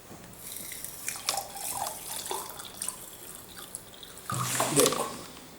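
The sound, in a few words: water poured into sand mixture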